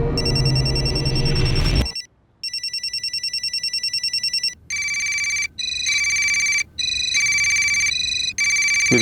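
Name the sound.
mobile phone ringing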